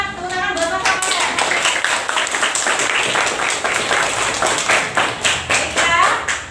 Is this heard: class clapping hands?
yes